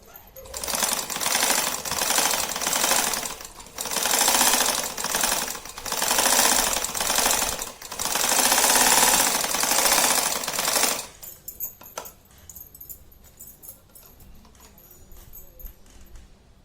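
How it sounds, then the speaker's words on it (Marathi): A sewing machine topstitches a clutch purse in loud, rapid mechanical bursts of several seconds each, separated by short pauses, then stops and leaves quiet handling noises. "याच्यावर अशी टाप शिलाई घेऊन घ्यायची."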